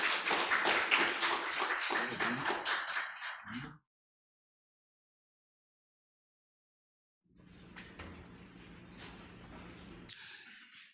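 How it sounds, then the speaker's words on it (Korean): Seminar audience at a unification lecture gives a professor a welcoming round of applause: a few seconds of brisk, close clapping that cuts off into silence, followed by a fainter, thinner patter of scattered clapping. "전우택 교수님을 큰 박수로 맞이해 주시기 바랍니다"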